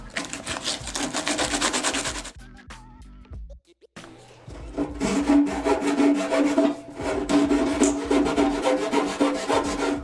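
Fiberglass patched over a rust hole on a 1994 Lexus LS400 body is sanded by hand. The sound is a close, continuous rasping scrape that stops briefly partway through, then resumes with a harsh, rhythmic grit.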